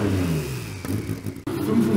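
A 1983 Porsche 956C race car's twin-turbo engine, 540 horsepower, revs loudly and close by, with the pitch rising and falling and a brief dip before it surges back.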